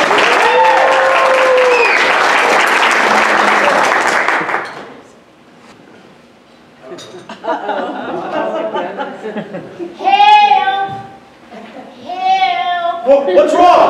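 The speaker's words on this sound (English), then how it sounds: "Hannah needs a lot more applause than that." Loud audience applause at a sales presentation event rolls for about four seconds, then gives way to people talking and chuckling, with children's voices nearby.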